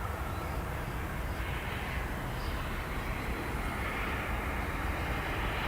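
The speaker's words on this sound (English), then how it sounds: "By gum, it's an American Airlines plane." An American Airlines jet at DFW Airport by runway 18 Left roars as a broad, steady rumble, an even wash of engine noise, constant and fairly distant.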